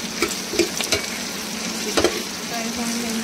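Onions frying in a pan for a mutton rogan josh, a steady close sizzle broken by several scraping stirs of a spoon against the pan.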